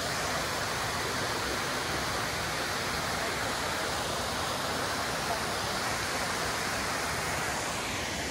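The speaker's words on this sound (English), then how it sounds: "I'm calling this one Chedoke Waterfall number" Chedoke waterfall rushing in a steady, loud, unbroken roar of falling water, alone and continuous throughout.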